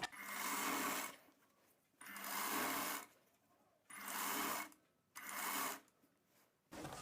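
A sewing machine stitches a boat neck blouse in four short bursts of fast, whirring needle noise, each about a second long, with brief silent gaps between them.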